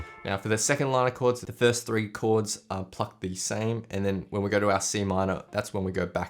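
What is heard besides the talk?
No distinct noise like a dog, phone or traffic.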